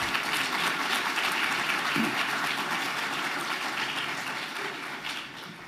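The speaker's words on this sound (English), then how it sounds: "It would be nice to get some applause." Broad, steady applause from a summit audience fills the room, a wash of many hands clapping that slowly thins and softens toward the end, with no voices over it.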